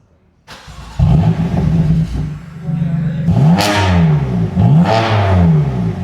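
A BMW M4 Competition engine revs hard several times, rising and falling in pitch with loud, rasping bursts, close by and alone.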